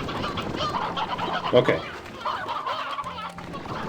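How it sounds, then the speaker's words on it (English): Chickens in the video game Slime Rancher cluck softly in a short burst, with one brief louder squawk, while a person says a word over them. "They didn't eat all the chickens."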